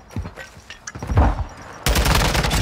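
Rapid gunfire in Modern Warfare 2, loud and close, with scattered shots giving way to a dense sustained burst of automatic fire.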